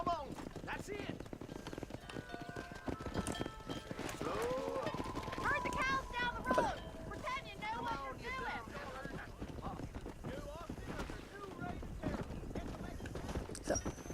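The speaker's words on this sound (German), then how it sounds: "Wie gesagt, Pferd fährt jetzt ziemlich eilig." A horse gallops with rapid, steady hoofbeats in the video game Red Dead Redemption, along with a couple of whinnies and wind noise, all continuous throughout.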